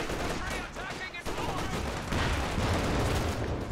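Dense gunfire from the strategy game Company of Heroes 2 crackles continuously, with machine-gun bursts including a .50 cal and scattered shots layered into a loud, busy battle din.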